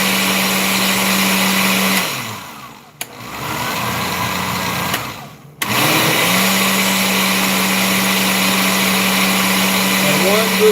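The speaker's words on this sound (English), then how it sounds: "use varying speeds on your blender, okay?" An electric blender whirs as it blends a Jamaican sweet potato pudding batter, its steady motor drone dipping and cutting out twice as the speed is changed before running on again.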